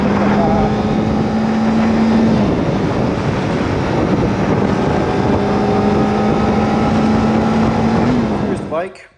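Kawasaki ZX-4RR motorcycle pulling hard in second gear on the road, a steady loud engine drone under heavy wind rush that fades out at the end; someone talks over it.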